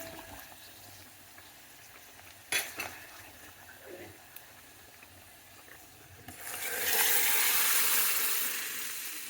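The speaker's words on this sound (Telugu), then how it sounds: "ఇప్పుడు పోపు పెడుతుంది." A tempering of popu is fried for spinach dal, a few clinks of a utensil against the pan, then a loud hiss that swells and holds close by as it hits the hot oil.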